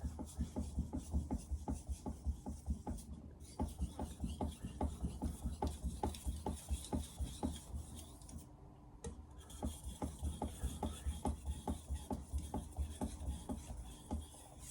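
A Victorinox knife blade rubs in steady, rhythmic strokes across a Chosera 3000 whetstone, each pass a close, gritty rasp, repeating quickly with a couple of brief pauses and no talking.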